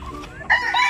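A chicken, a pet hen about to be bathed, gives a short run of close clucks over barely a second.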